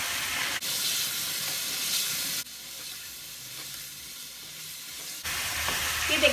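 Gravy being sautéed in a pan, a steady close sizzling hiss broken by a couple of abrupt shifts in level, with no voices.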